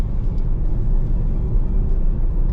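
Chery Q car rolling along an ordinary road, a steady low rumble of engine and tyre noise heard from inside the cabin, continuous and even with no talk.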